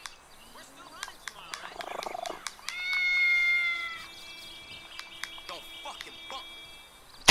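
A cat meows in the video game GTA 5, a drawn-out, moderately loud meow in the middle, with clicks and other scattered game sounds before and after.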